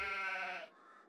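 A single drawn-out bleat from a goat or sheep in a farming survival game, close and clear, holding a wavering tone for about half a second before dropping to a softer tail.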